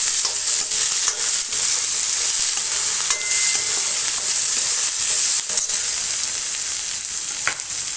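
Chopped tomato and onion sauté in a hot pan for a gravy, a loud continuous hiss close up with occasional soft stirring scrapes, steady throughout and free of speech.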